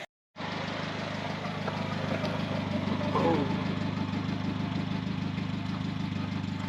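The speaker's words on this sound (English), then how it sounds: "Let's see what the exhaust sounds like." A 1981 Mazda 626 with a rebuilt engine idles through its exhaust, a steady low rumble with an even pulsing beat that runs throughout after a brief silent start.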